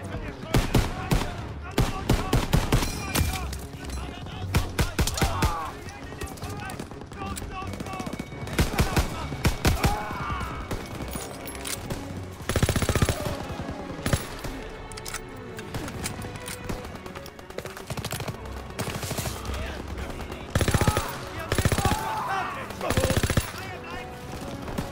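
Dense gunfire from a Call of Duty WWII battle, with machine-gun bursts and rifle shots crackling loudly and continuously, punctuated by heavier blasts and overlapping battlefield noise throughout.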